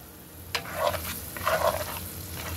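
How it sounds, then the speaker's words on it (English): A spoon stirs bay leaves cooking over medium heat in a pot of jollof rice, making two short scraping strokes over a soft, steady sizzle. The sound is close and there is no talking. "Give it a good stir."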